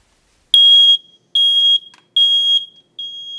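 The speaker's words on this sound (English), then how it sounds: "The alarm worked though." A smoke alarm in a smoke-filled garage during a LiPo battery fire sounds loud, piercing high beeps, four evenly spaced bursts with brief silences between, close and alone.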